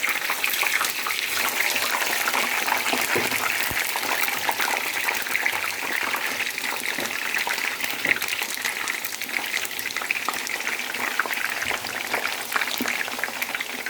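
Eggplant slices for karnıyarık fry in hot oil in a pan, giving a continuous, dense crackling sizzle that stays even and moderately loud throughout, with no voices.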